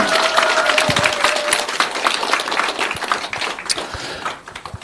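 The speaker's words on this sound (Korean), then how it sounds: "박수 한번 치면서 오늘 마무리하도록 하겠습니다" An audience at a Korean network-marketing business seminar closes the session with clapping, a busy wash of hands that holds steady and then tapers off near the end.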